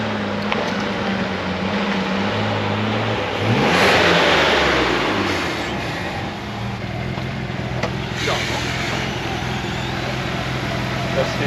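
A six-cylinder biturbo car engine revs repeatedly, with a loud surge of acceleration midway that rises and falls under steady engine drone, with a few sharp pops and voices talking at points.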